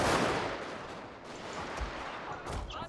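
Massed gunfire from a Fall of the Samurai battle at Nagaoka in the Shogun 2 strategy game: a dense, continuous crackle of rifle and artillery shots, loudest at the start, then steady with a few sharper reports near the end.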